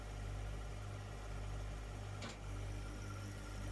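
A John Deere 1 series compact tractor engine runs steadily at about 2000 RPM, a low, even droning hum with a slight pulsing throb, heard close and fairly quiet.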